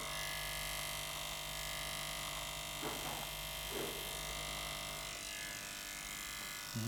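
An electric razor buzzes continuously at close range, a steady mechanical hum with brief changes in tone as it moves over the skin.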